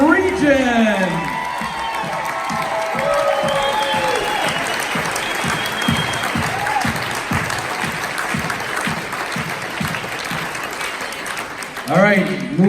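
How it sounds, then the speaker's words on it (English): A large audience applauds award winners at a nursing and rehabilitation excellence awards ceremony, a long steady wash of clapping with a few whoops, while an announcer keeps talking over it throughout. "Big round of applause"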